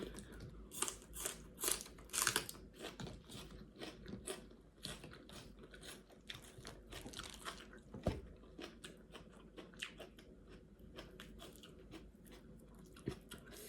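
Close crunching and chewing of a Thai bamboo shoot dish cooked in a pot, eaten with sticky rice and crisp fresh vegetables, with repeated crisp bites and mouth sounds, no talking.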